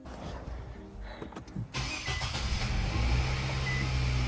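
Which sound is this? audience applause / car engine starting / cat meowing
car engine starting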